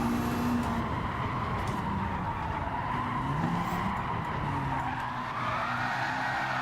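In Gran Turismo 7, a car swings around in a handbrake turn with a loud, continuous tire skid over the engine roar, sustained without a break.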